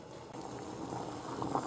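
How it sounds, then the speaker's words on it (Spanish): Orange sauce for duck breast bubbling as it boils in a frying pan, a steady soft simmering hiss with scattered small pops, close and even throughout with no talking. "Ya está hirviendo"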